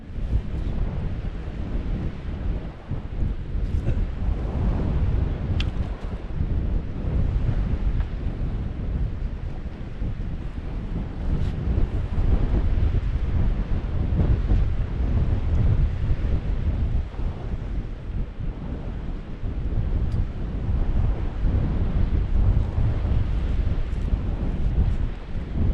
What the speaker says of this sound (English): Wind's turned round as well, I think, hasn't it?